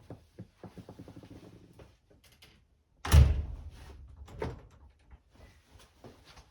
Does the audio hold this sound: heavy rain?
no